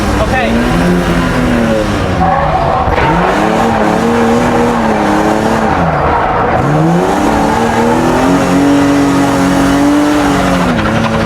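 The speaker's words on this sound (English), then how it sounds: "This time we slow down using the handbrake." Race car engine note rising and falling through repeated sweeps while the car skids and scrubs speed under handbrake, the tyres squealing loudly and continuously against a steady roar; a voice talks over part of it.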